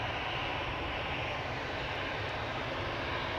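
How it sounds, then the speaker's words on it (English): Airliners departing from a runway at Amsterdam Schiphol Airport during parallel departures, a loud, steady broadband jet roar filling the whole stretch with no voices. "there is parallel departures taking place from both this runway"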